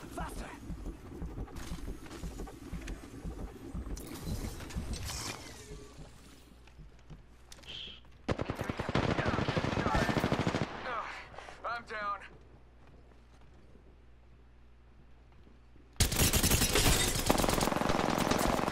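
Bursts of automatic gunfire from a battle royale video game, loud and dense in several stretches with quieter gaps between, under players talking.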